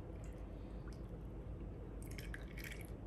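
Peanut oil pours into a mixing bowl for a mooncake dough, a soft, quiet liquid trickle with faint drippy splashes that grow a little stronger near the end.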